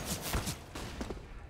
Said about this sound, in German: Ein Schuss gegen Reeds